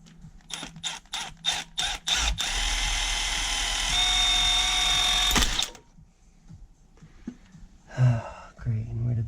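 Power drill boring out a broken bolt on a BMW N54 engine from a 335i, a sustained loud whirring run of several seconds after a few short bursts, then stopping, with brief clicks and a voice afterward.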